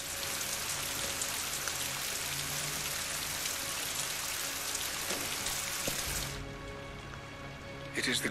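Steady rain falls in Rise of the Tomb Raider, a dense even hiss that cuts off abruptly near the end, leaving a short quieter stretch before a final burst.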